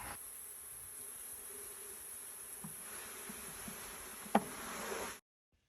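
A steady, faint hum of honey bees buzzing continues throughout as package bees are transferred to a hive super, with a single sharp knock near the end before the sound cuts off.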